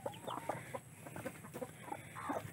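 Three broody setting hens in a chicken pen cluck in low, irregular bursts close by, with no voices over them.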